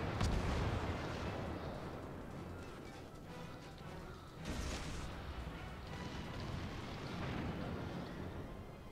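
Warship guns firing in the naval combat game World of Warships, heavy booming salvos over a continuous rumbling battle background, with a strong blast at the start and another partway through.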